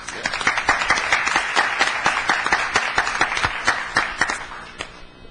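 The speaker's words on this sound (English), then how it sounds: "But first, a round of applause to Matthew, who organized this event" A room applauds at a screening of a 1954 documentary about the March on Washington, with dense, steady clapping and crisp individual claps throughout, loud and close, tapering slightly at the end.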